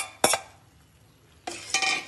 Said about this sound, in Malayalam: ഇളക്കിക്കൊണ്ടേ ഇരിക്കണം കേട്ടാ